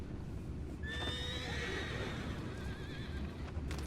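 In Red Dead Redemption 2, a horse whinnies loudly and up close with a long, wavering neigh over a low, steady rumble of background ambience, with faint hoof clops beneath.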